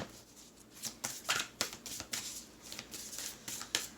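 Divine Masters Oracle cards are shuffled by hand in a quick series of crisp riffling bursts and slaps, close and clear with no talking.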